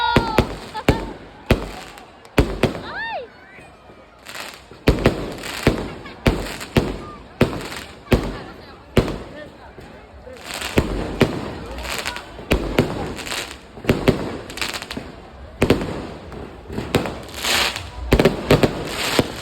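A fireworks display marks the opening of the Sinaot Festival in President Roxas, Capiz. Loud booms and crackling bursts go off in rapid, irregular succession for about twenty seconds, with faint voices between them.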